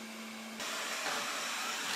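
A PROSCENIC 820S robot vacuum cleaner running nearby, a steady airy whir with a brief tonal hum at first, then a slightly louder broadband rush as it moves on.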